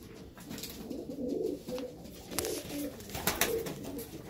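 Racing homer pigeon, a breeding cock, cooing in repeated low throaty phrases close by, with rustling and handling noise around it.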